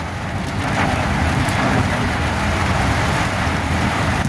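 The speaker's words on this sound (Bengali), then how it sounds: "আমাদের তো ভালো লাগছে বৃষ্টি।" Steady rain drumming on a surface on a Vadodara city road, a dense continuous hiss with a low rumble like a vehicle moving through the downpour.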